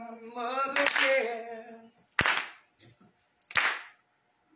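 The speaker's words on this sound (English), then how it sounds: "can y'all clap so I can give me a beat?" Church congregation clapping a beat while a minister sings gospel, with a few sharp, loud handclaps spaced about a second or more apart under and between the singing voice.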